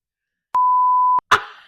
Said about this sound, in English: We're gonna beep that out